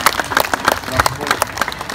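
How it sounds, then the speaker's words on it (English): Applause for a grandmother at her birthday celebration, a small group clapping close by in an uneven rhythm, with voices mixed in. "please give our grandma a round of applause for her 18th birthday"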